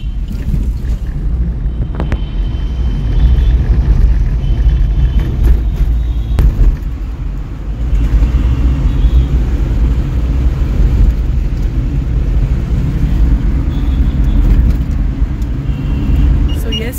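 A car cruises along a highway with a loud, steady low road rumble and wind buffeting the microphone, interior drone continuing throughout with occasional knocks.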